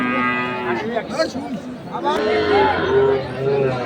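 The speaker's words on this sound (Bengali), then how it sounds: "দর্শক আমরা দেখছিলাম এই যে গরুটি" A cow lets out several drawn-out moos at a busy cattle market, close and fairly loud, over steady crowd chatter and people talking nearby.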